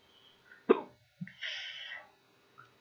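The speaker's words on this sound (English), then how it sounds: "My hiccups are just getting worse." A man's hiccups during a live football watchalong: one sharp, near hiccup, followed a moment later by a second, longer throaty burst, with quiet room sound between.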